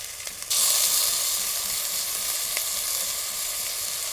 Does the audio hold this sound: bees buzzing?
no